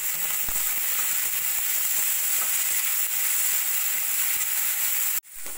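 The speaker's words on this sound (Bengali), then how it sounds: "একটু ভাজা ভাজা করে নেব।" Chopped carrot, beans and cabbage frying in a pan for momo soup give a loud, continuous close sizzle that cuts off abruptly near the end.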